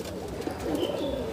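A pair of pet pigeons cooing softly close by, a short low throaty burble that rises slightly midway, with no talk.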